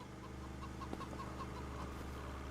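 Hens cluck in short, repeated calls from a small flock of chickens and geese in Farming Simulator 25, heard over a steady low farm-machine drone with no talking.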